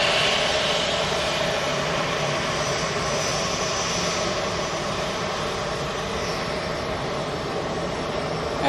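An EasyJet Airbus A320 jet takes off for Catania, its engines producing a loud, sustained roar with steady whine, constant and close across the whole stretch with no speech.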